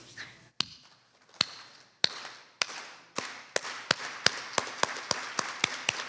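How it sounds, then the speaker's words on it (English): A crowd at an APIDA Heritage Month festival claps in unison, starting with a few slow, widely spaced claps that gradually speed up into a quicker, steady rhythm. "everyone to do a slow clap and then kind of speed up"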